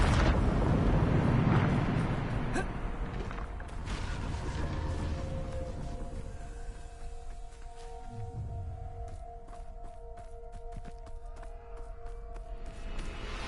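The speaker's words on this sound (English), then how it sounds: "Bombarda Maxima!" A Bombarda Maxima blast spell in Hogwarts Legacy opens with a loud rumbling explosion that fades into crackling debris and scattered magical chimes and clinks, with no speech.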